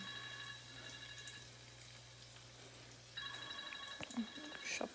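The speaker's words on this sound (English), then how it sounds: "That's my alarm for my Google Meet." An electronic alarm beeps in steady tones, stops briefly, then resumes, with a faint clunk and quiet background noise.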